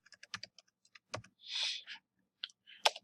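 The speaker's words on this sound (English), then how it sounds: "On this one, I'm going to type in password," A password is typed on a computer keyboard during a networking exercise: sparse, close key clicks in uneven clusters with a couple of soft breathy hisses between them, and no one speaking.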